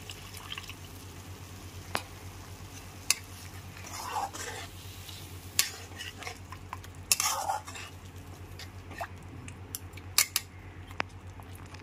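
Spoon stirring sugar into a pot of Bengali dahi potol curry (pointed gourd in yogurt gravy), giving soft intermittent scrapes and clinks against the pot over a steady low hum, close and fairly quiet.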